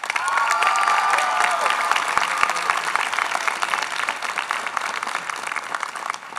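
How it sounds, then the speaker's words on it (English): A crowd at a high school commencement ceremony in a theater applauds the salutatorian, a sustained, dense roar of clapping with some cheering, and a brief whistle-like tone near the start. "Please give her a round of applause."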